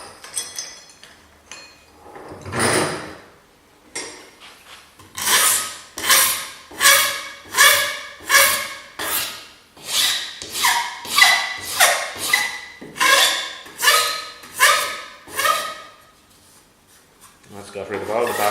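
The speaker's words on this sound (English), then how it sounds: "So I am going to just file this smooth" A hand file smooths a wooden edge after bandsaw cutting, with a run of steady, rhythmic rasping strokes close by, about a dozen evenly spaced passes following a few quieter scrapes at the start.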